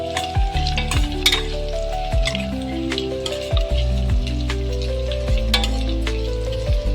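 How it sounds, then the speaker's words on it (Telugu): Chopped onion and green chillies stir-frying in oil for bottle gourd curry: loud continuous crackling hiss with periodic sharp scrapes of the ladle, under gentle background music. "సో ఈ ఆనియన్ కొంచెం మనము లైట్ బ్రౌనిష్ వచ్చే వరకు ఆయిల్లో ఫ్రై చేసుకోవాలి."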